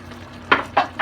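A spoon stirs cabbage and sausages in a pot, three distinct scraping strokes in quick succession over a low background of gentle cooking, with no talking.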